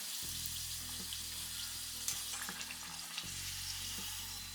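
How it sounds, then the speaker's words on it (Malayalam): Banana vada fritters frying in hot oil, a continuous close sizzle and bubbling with a low steady hum beneath and a few soft clinks, no speech. "ഒന്ന് കളറൊന്ന് മാറി വരുന്നവരെ നമുക്ക് ഫ്രൈ ചെയ്തെടുക്കാം"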